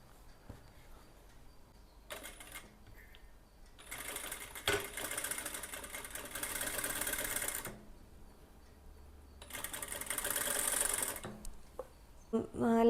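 A sewing machine stitches the shoulders of a waistcoat lining, running close and steady in two sustained bursts of rapid needle clatter, with quieter handling sounds between them.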